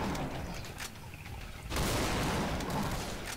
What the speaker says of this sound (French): Je vais quand même sortir le fusil à double canon.